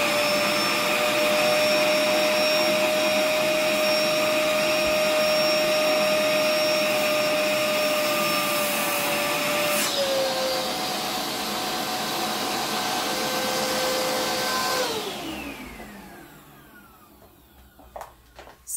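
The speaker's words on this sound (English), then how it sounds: "this is the area where you vacuum seal it out" A vacuum motor whines steadily at close range, sucking air out of a vacuum-seal storage bag, its pitch shifting once midway, then winds down and fades to near silence.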